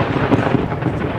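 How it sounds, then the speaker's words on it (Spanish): Thunder rumbling during a storm in Panama's old city, a loud, broad low roll lasting about a second with a couple of sharper swells, heard alone with no talk. "¡Qué relámpago! Está por llover."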